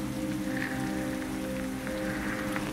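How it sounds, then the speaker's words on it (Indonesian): Heavy rain falls steadily as a dense, even wash of drops that holds constant throughout with no other sounds on top. "Hujan turun dengan derasnya di kerajaan Raja Hante."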